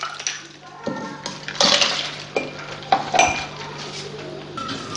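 Finely crushed ice is stirred into a sharbat in a bowl, making irregular clinks, rattles and watery sloshes of ice and liquid against the sides, fairly close and moderately loud, with a little background voice.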